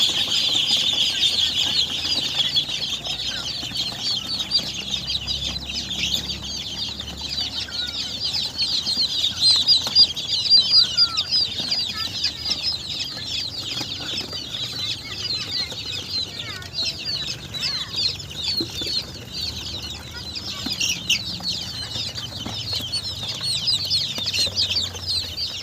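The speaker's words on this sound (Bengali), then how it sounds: "দেখতে পাচ্ছ হাঁসগুলো খাবে বলে" Young ducklings, about ten days old, jumping about and flapping their wings for food, a continuous busy flutter of wings mixed with soft chirping and peeping, close and fairly even throughout.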